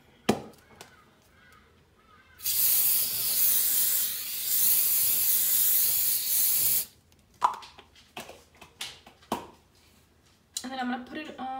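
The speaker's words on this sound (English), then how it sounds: "I'm going to use this spray and cook olive oil. It's a non-stick spray" A loud, steady hiss of an aerosol non-stick olive oil cooking spray lasting about four seconds, framed by soft clicks and handling noises, with light sizzling near the end.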